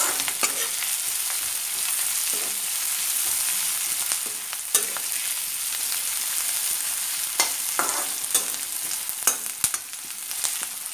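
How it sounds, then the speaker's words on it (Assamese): Onions, ginger and curry leaves fry in hot oil in a pan, a steady close sizzle with occasional sharp clicks and scrapes from stirring, and no talking. "এয়া চাওক, ভাল ধৰণে ভাজি ল'ব"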